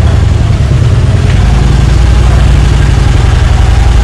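A Harley-Davidson motorcycle engine runs loud and close with a deep, steady, pulsing rumble, holding at a constant level as it is given gas during a beginner's riding lesson, with no talk.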